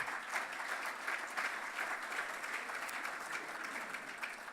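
An audience applauds to welcome a speaker at a National Poppy Week event, a steady wash of clapping from a crowd that holds its level throughout with no voices over it.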